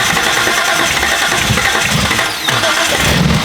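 An abandoned Datsun 280Z engine catches with a rough burst and then dies back down, a short mid-pitched sputtering run with a brief dip before it stumbles again.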